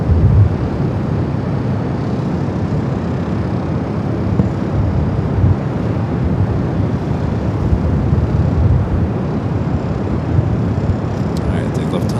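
A Lufthansa Boeing 747 at LAX gives off a steady, broad jet roar, fairly distant and continuous throughout, with gusty wind in the background.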